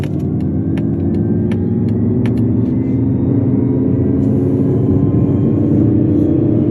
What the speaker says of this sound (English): That sounds like an electric car with a fake engine note.